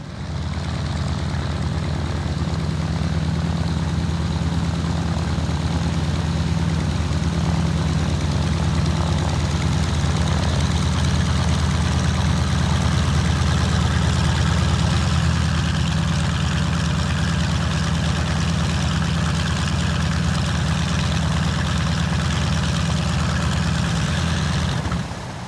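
Engines of a C-53 transport aircraft idling at Grimes Field in Urbana, Ohio, during a D-Day event: a loud, constant propeller drone with a deep low rumble, holding steady throughout with no talk.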